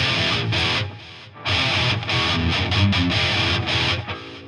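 Electric guitar through a CTE amp preset on a Line 6 Helix, played as heavily distorted, dense chugging riffs with brief stops and short silent gaps between phrases.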